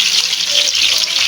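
Chicken pieces fry in hot oil with a loud, steady, close-up sizzle and crackle that holds without a break.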